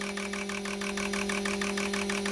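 GDI fuel injector tester cleaning machine running an idle test, a quiet rapid regular clicking pulse over a steady electrical hum, even and continuous, no talk.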